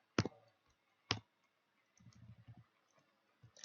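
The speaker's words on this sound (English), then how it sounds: "so we'll grab the mouse and reduce that by a couple of clicks" A computer mouse clicks twice, sharp and quiet, at close range, then gives one more click near the end. A faint low rumble sits between the clicks in an otherwise quiet room.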